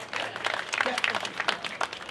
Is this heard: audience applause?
yes